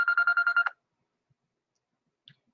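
A telephone rings in a quick burst of bright, warbling electronic trills lasting under a second, then cuts off into near silence with only a couple of faint clicks.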